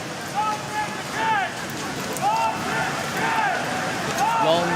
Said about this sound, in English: Long live the King is being chanted outside Buckingham Palace in the pouring rain.